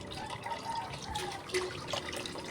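Tap water runs and drips into a sink while aromatics are washed for salmon sinigang, a soft steady trickle with a few distinct drips, close by and alone without talk.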